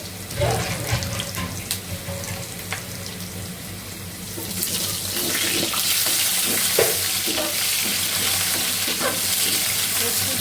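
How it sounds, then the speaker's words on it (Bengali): Potato pieces coated with cumin and coriander powder fry in oil. Clinks and handling knocks come first, then a loud, steady sizzle swells up and carries on to the end. "এখন আলু ভাজা হলে তুলে নেবো"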